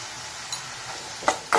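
Onions sauteing with salt and turmeric in a pan, a low steady sizzle under a few sharp scrapes and clinks of a spoon stirring, the last two strokes louder and close.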